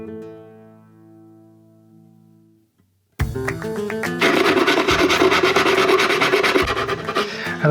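A fading ringing tone gives way to a harsh, continuous rasping of wood being sanded up close with a hollow sanding cylinder while cleaning up violin F-holes, loud and steady until the end.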